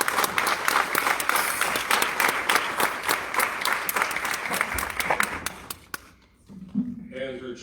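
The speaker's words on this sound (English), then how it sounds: "I'd like to have a round of applause for her also" An audience at a Libertarian Senate debate applauds the moderator, a steady dense round of clapping lasting several seconds before it tapers off into a brief voice.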